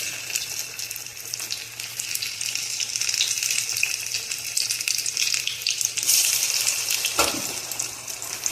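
Thick banana flower vada batter fries in hot oil with a steady, close sizzle that holds for several seconds, with a brief clatter near the end.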